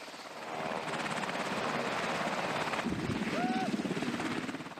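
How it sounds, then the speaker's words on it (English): A military helicopter's rotor thuds steadily with a rapid, rhythmic chop, loud and close, holding a constant drone throughout with a brief whine rising partway through. "helicopters are essential to the way modern militaries operate"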